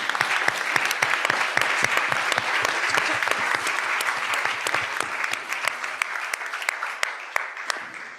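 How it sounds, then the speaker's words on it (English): Sustained audience applause at the global launch event for the 2025 Human Development Report, dense, steady clapping from a large crowd that holds throughout before thinning and fading toward the end. "a big applause for the UNDP and the extended team"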